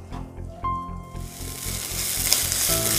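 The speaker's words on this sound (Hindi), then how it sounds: "इन सारे चीज़ों को भी हमें 2 से 3 मिनट के लिए लो टू मीडियम आँच पर हमें इन्हें फ्राई करना है" Garlic cloves and other ingredients fry in a pan over low to medium heat for a tomato and green chili chutney. An even sizzle grows louder and hisses continuously, with faint stirring noises.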